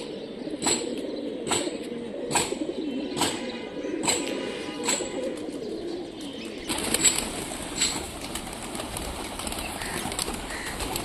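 Repeated sharp wing claps from large pigeons at regular intervals, over a low murmur of soft cooing and ambient noise.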